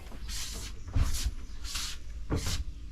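A storage box lid in a 7x12 cargo trailer conversion is opened to show a 12-volt battery, four close, loud scraping and clunking movements of the lid, no talking.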